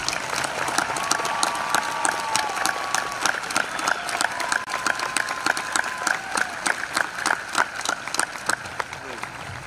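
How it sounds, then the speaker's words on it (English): Graduation crowd at a high school ceremony applauding school district employees, sustained clapping from many hands that sounds broad and fairly loud, running steadily for several seconds with scattered sharp individual claps. "Let's give them a round of applause as well."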